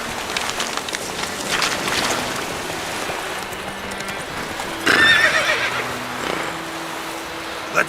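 Horse hooves clip-clopping steadily with a whinny from the mount Roach in the video game Witcher 3, set against a light rain-like ambience, with a brief sharper burst near the end.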